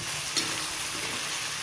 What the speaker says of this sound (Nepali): यसलाई चाहिँ अब म चलाइदिन्छु मजाले